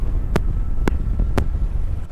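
Wind rushes across a microphone at a fishing shore, a constant low rumbling buffet with three brief sharp clicks spaced evenly through it.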